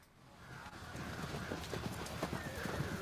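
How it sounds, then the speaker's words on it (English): A horse neighing and galloping, heard as a sound effect in a tabletop role-playing session: rhythmic clip-clop hoofbeats building in pace, with a whinny over faint background voices. "It's a horse neigh!"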